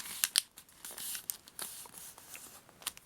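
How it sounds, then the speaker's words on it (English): Paper being folded and creased for a traditional origami tato envelope: close, crisp crinkles and sharp snaps come in irregular bursts, with no talking. "fold it up,"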